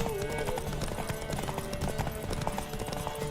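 Rhythmic clip-clop of horse hooves in the video game Witcher 3, steady hoofbeats mixed with game sounds, music and faint voices around them.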